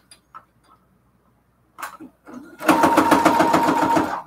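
A sewing machine backstitches a quarter-inch seam on a cathedral window quilt pillowcase: a few soft clicks and handling noises come first, then a loud, rapid mechanical rattle of stitching runs steadily close by to the end.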